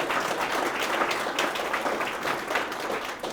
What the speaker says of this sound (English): let's also give him a nice round of applause